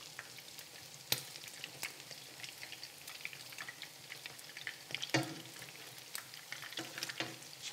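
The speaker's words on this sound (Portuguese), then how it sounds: "Então deixa fritar a massa bem de um lado e do outro." Pastry dough fries in oil, a soft crackling sizzle scattered with sharp pops and a couple of louder spits, fairly quiet and close.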